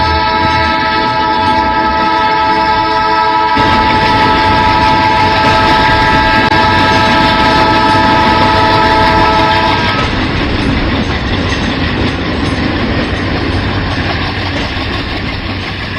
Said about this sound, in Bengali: ট্রেন আসতেছে।